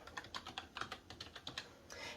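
Quick, uneven keystrokes clatter on a computer keyboard as a short word is typed into a login field, a dozen or so sharp clicks close by in a quiet room.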